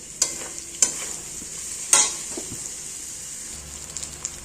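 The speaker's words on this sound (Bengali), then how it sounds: "সাদা তেল দিয়েছি কড়াতে, তারপরে গোটা গরম মশলা ফোড়ন দিয়েছি, তারপরে পেঁয়াজ বাটাটা দিয়ে দিয়েছি।" Onion paste frying with whole garam masala spices in white oil in a kadai for chicken korma, a steady soft sizzle with a few sharp stirring clinks and scrapes, close and fairly quiet.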